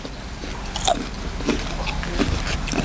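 Crisp bites and chewing of a seedless pickled olive with firm, crunchy flesh, eaten with sweet fish sauce and chili salt: a few sharp crunches over steady close-up mastication, with no talking.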